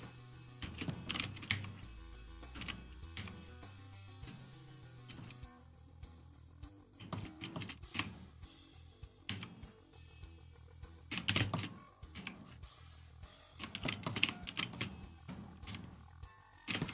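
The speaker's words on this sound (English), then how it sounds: "I keep on hitting 1 and 2 on my keyboard as if to flip to a different frame." Keys clatter on a computer keyboard in quick, irregular bursts of typing with brief pauses, soft and close, with no voices.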